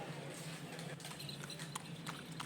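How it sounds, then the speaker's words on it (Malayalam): Horse hooves of a horse-drawn cart clip-clop in a steady, uneven rhythm near a temple town in Palani, Tamil Nadu, with several sharp strikes over a constant background murmur. "കുതിരവണ്ടി സവാരിയും ഒക്കെ"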